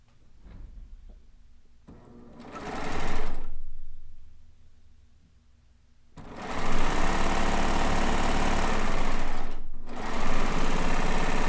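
An overlock or cover stitch sewing machine runs in two bursts, a short one and then a longer steady stretch, loud and close with a brief pause between runs.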